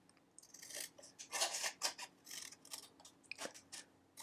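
Scissors cutting through a card Easter treat box, a series of close, crisp snips and scraping cuts in uneven bursts with small gaps between them.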